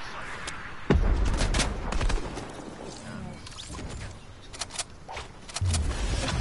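Video game gunfire in Fortnite: scattered shots and bursts with a sharp crack near the start, interspersed with thuds and quieter game noise.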